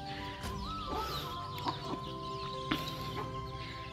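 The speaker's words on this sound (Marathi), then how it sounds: "छोट्या छोट्या पिल्लांचे काही कमी नाही आमच्याकडे." Chickens and small chicks cluck and peep close by in a village yard, a steady overlapping chatter of soft clucks and a few sharper calls, with no one talking.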